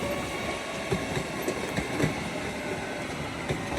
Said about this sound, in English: Departing far down in the distance down there is your 1306 LNER Azuma service from London King's Cross to York